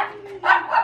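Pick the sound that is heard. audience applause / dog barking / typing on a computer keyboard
dog barking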